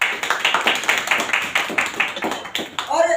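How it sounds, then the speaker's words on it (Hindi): Audience clapping at a student honour ceremony for yagya volunteers, a rapid, steady burst of many hands applauding together, fairly loud and continuous for a few seconds, with no talk over it. "तालियां"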